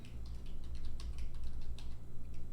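Steady computer-keyboard typing with quick, irregular keystrokes over a low hum, close and fairly quiet, no voices.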